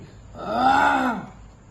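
A human voice imitates a lion's roar in a told story: one drawn-out, rising and falling groaning roar lasting under a second, moderately loud, with no talk over it.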